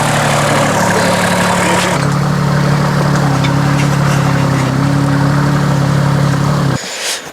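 A mini digger's diesel engine runs steadily and close by, a loud constant drone whose pitch shifts a little after the first couple of seconds before it cuts out abruptly near the end.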